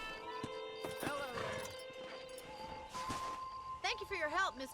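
A horse in the video game Red Dead Redemption whinnies in a wavering, rising-and-falling neigh near the end, following hoof clatter and game music, with someone speaking over parts of it.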